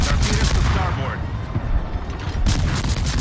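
Warship guns firing in the World of Warships naval combat game, the Mahan destroyer shelling an enemy ship: dense, loud, rapid booming salvos that roll into one another, with a voice talking over the barrage.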